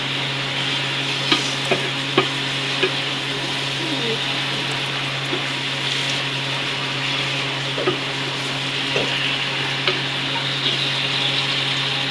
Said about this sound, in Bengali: এখন ভেজে নিচ্ছে মাছ